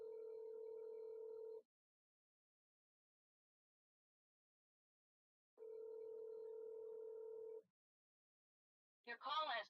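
A phone line rings while calling someone, two long steady tones separated by several seconds of silence, clear and close, followed by a brief burst of a voice at the end.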